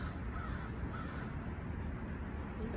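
Outdoor crows cawing repeatedly, harsh calls at a moderate distance with no talk over them.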